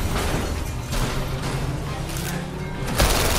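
Dense, continuous combat noise from the PlayStation VR Worlds game London Heist, with rumbling booms and bursts of explosions, loud throughout, with a sharper blast near the end.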